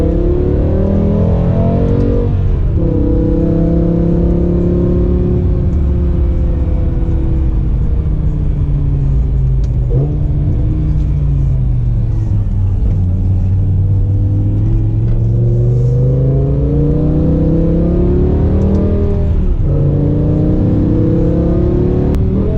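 BMW E60 M5 with the S85 V10 engine running, a loud, close, continuous drone with several rev rises and falls, sweeping up and down in pitch over a steady rumble.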